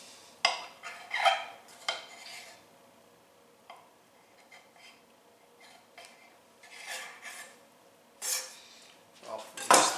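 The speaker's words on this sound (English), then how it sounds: "Should probably use my dough scraper to do this." A dough scraper working sweet orange roll dough, making short, dry scraping strokes in irregular bursts with quiet gaps between, close to the microphone.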